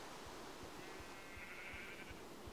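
Sheep in a video game bleat faintly against a steady hiss, with regular soft thumps pulsing underneath at an even rhythm.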